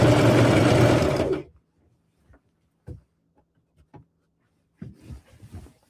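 A sewing machine stitches a seam on a rag quilt in one close, brisk run of about a second, then stops, leaving a few faint handling clicks and rustles.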